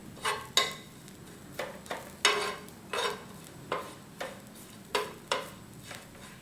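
Shredded coconut being stirred and roasted in a pan for miang kham, a series of scraping, rustling strokes at an irregular rhythm, close and fairly quiet over a soft background.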